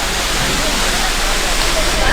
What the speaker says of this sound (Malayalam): ചീയപ്പാറ വെള്ളച്ചാട്ടം